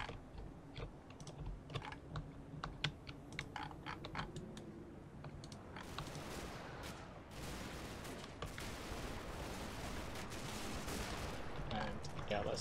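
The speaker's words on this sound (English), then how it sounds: "He's busy machine gunning things." A half-track's machine gun fires in a war video game, with sharp rapid bursts and scattered shots that thicken into heavier continuous fire in the second half, against a busy battle background.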